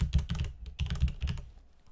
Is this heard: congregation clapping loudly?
no